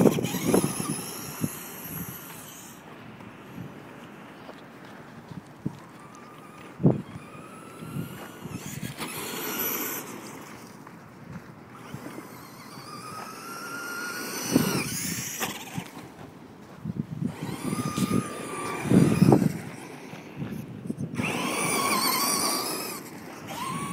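Traxxas Monster Mutt RC truck driving and drifting, its small electric motor whining up and down in pitch with tire squeals and scrabbling over the ground, close and fairly loud with no talking.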